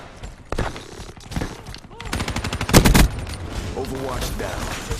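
Gunfire rattles from the video game Black Ops 3 in loud bursts of rapid shots over a steady game background, with a voice talking over the action.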